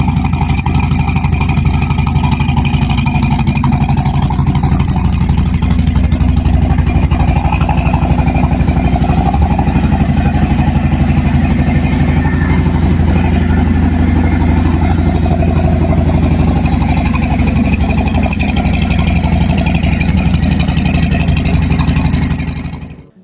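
A 2018 Harley-Davidson Softail Low Rider runs its V-twin engine with a loud, close, continuous rumbling throb that holds steady for the whole stretch before it cuts off at the end.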